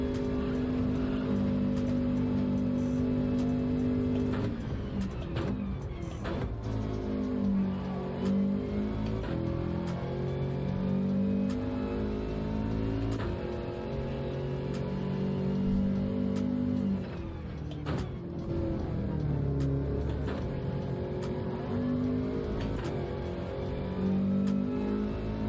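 A race car engine in a racing video game drones steadily and loudly throughout, with repeated rises and falls in pitch as it shifts and accelerates through corners, and no talk over it.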